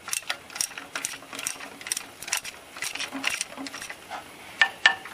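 A wrench working a broken water pump stud loose from an engine, uneven close metallic clicks, taps and scrapes in short irregular bursts, with two sharper clinks near the end.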